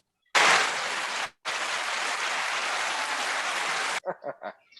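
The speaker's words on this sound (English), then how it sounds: "I need to fade up that clap." Recorded applause effect on a podcast, a dense burst of crowd clapping that cuts out briefly, then resumes steadily before stopping abruptly, followed by a few short scattered sounds.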